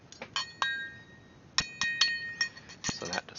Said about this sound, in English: let you guys hear the sound of spoon and glass